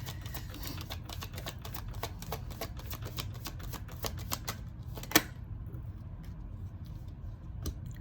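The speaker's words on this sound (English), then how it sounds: "I'm gonna get a few more cards." Tarot cards drawn and handled during a reading, producing a steady run of quick light clicks and taps with one sharper snap near the middle, close and fairly quiet with no talking.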